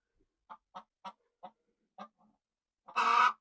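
Chickens in a henhouse in winter cluck in a run of short separate calls, then let out one louder, longer squawk at the end, heard close with no talk.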